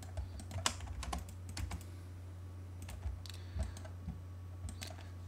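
Keys clatter on a computer keyboard as an AutoCAD command is entered, a steady run of close, crisp taps and clicks spread across the clip over a constant low electrical hum, with no voice.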